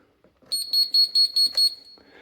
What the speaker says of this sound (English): So it plugs in, you get that little beep.